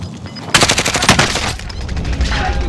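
Gunfire in the Warzone video game battle royale: a loud burst of rapid automatic shots after a brief quiet start, followed by a dense, rattling volley that continues more softly toward the end.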